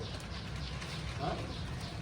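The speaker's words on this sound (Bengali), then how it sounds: "সেই 3টে পায়রা একসাথে এখন ছেড়ে দেখাচ্ছি" Three pigeons set free together coo faintly in low, soft murmurs over a steady background hum, quiet and a little distant.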